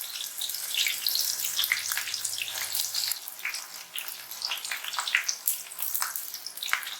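Sliced raw banana chips frying in hot oil give a steady, bright, crackling sizzle with dense popping bursts, close and continuous, with no talk.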